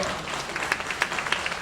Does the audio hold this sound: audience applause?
yes